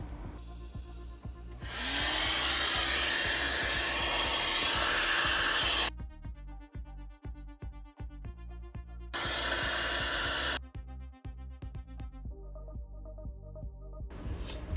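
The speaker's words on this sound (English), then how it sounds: "if you have a vacuum, you can use it right now to clean everything that's here." A vacuum cleaner cleans debris around the fuel pump access of a Scion tC, with two sustained bursts of loud, steady whooshing suction separated by quieter stretches of clanking and tapping.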